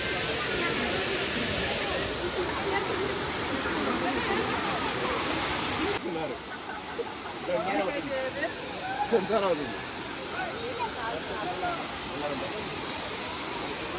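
CKM Falls pours in a steady, loud broadband roar of falling water that fills the whole scene, with a person speaking faintly over it partway through.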